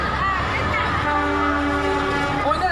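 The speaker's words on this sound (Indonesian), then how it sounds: "Oh, ini ada kereta ya?" A train passes close by with a horn or whistle sounding and rolling rumble, loud and continuous for a few seconds.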